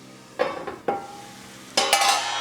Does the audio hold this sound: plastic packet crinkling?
no